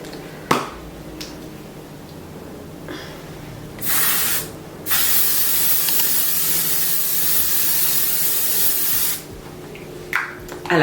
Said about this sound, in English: So that's a fixing spray that I spray now from Essence